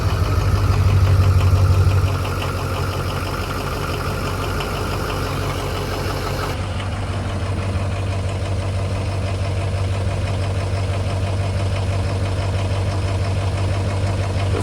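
A freshly rebuilt engine idles loud and steady on its first start of the morning, with an even, close mechanical clatter. The pitch and level drop slightly after a few seconds as the engine settles.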